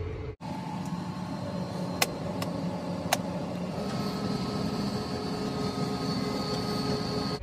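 A tractor engine drones steadily as it drives across a field, with a constant mechanical hum and whine and two or three brief sharp clicks near the start.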